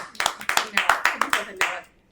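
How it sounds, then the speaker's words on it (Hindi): A small audience at a Hindi poetry gathering claps for a poet's recital, about ten distinct sharp claps in a quick, slightly uneven rhythm that fades out at the end. "आदरणीय डॉक्टर गीतिका चतुर्वेदी जी के लिए जोरदार तालियां"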